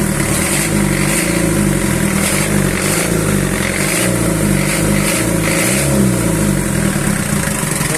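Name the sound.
4D30 diesel engine running and revving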